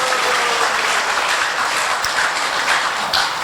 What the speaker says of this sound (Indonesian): Tepuk tangan dong untuk BRI.